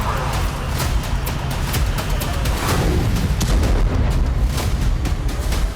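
Explosions from Hezbollah rocket attacks on Haifa, Israel, caught on CCTV, sound as a dense run of booms and rough, crackling blasts that keep coming one after another for several seconds, with no talk.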